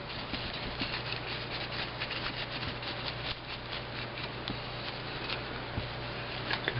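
Paintbrush bristles spread antique glaze across a surface in soft, continuous brushing and rubbing strokes, faint and close, with occasional light taps and no talk.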